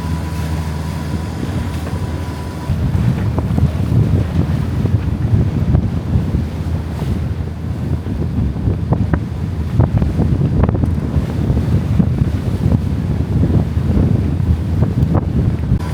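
Strong wind at sea, about 21 knots, off Grand Bahama near Freeport, roars steadily across the microphone with rumbling gusts and wave wash beneath, loud and continuous.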